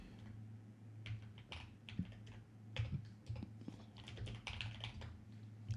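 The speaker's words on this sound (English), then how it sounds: "Ceramic creamy keyboard." Typing on a creamy ceramic keyboard: a steady run of close, soft clacky keystrokes with irregular rhythm and occasional louder presses, alone without talk.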